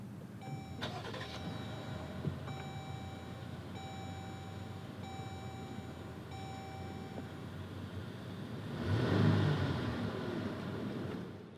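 A 2018 Jeep Grand Cherokee Overland is started with its push-button ignition: a series of electronic chimes and beeps, then the engine cranks and catches near the end and settles into a steady idle, close and alone.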